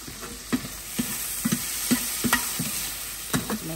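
Chicken and vegetables fry in a pan while being stirred, a constant sizzle broken by about a dozen soft, irregular scraping and clacking strokes close to the listener.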